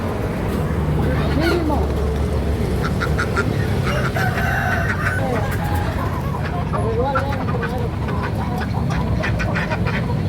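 Ducks quack repeatedly amid chickens at a bustling poultry market, with clustered, fairly close calls and occasional crowing over a constant din, while people talk in the background.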